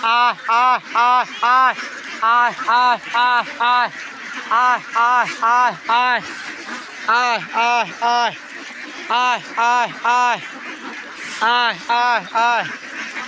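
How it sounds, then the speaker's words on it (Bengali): A flock of farm ducks quacks loudly and steadily as they come one by one to eat paddy, with rapid repeated nasal calls overlapping in bursts throughout. "সবগুলো হাঁস একে একে চলে আসতেছে খাওয়ার জন্য"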